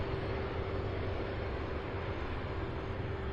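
Boeing 757 jet at an airport at night, a steady broadband roar with a faint hum, distant and constant, no talk.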